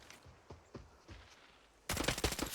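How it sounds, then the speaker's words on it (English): Gunfire in the mobile shooter Arena Breakout on a mountain valley map: a few spaced, distant-sounding shots, then a loud, rapid automatic burst of close rounds that continues to the end. "I start painting the mountain face with my bullets."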